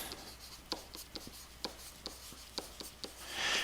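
Pen or marker writing out an exponential growth equation, a quiet series of close, irregular scratchy strokes and taps, with a faint rustle at the end.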